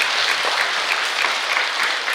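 Steady, dense applause from an audience at a Buddhist precepts ceremony at Masan temple in Korea, welcoming the dharma master, with loud, continuous clapping filling the hall without a break.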